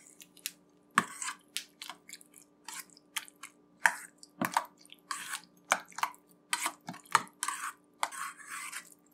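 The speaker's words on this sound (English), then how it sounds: "So you're gonna give that a mix now." Mashed roasted eggplant for baigan choka being mixed in a bowl: a run of quick, irregular wet squelches and scrapes with light clinks, close and fairly quiet, no talking.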